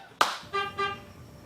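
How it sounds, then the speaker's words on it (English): A sharp thump is followed by two short car horn honks in quick succession, close and clear against quiet background. "You aren't gonna get in the car with a guy who honks, are you?"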